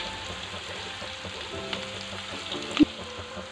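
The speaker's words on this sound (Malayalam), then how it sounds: "ഇതിലേക്ക് 1/2 ടീസ്പൂൺ വെളുത്തുള്ളി ഇഞ്ചി പേസ്റ്റ് ചേർക്കുകയാണ്. ഇതിൻ്റെ പച്ചമണം മാറുന്നത് വരെ വഴറ്റി കൊടുക്കുക." Onion with ginger-garlic paste frying in a pan for a spicy Malabar-style Kerala beef curry, a steady low sizzle with a few soft stirring knocks, fairly quiet and close, no talking.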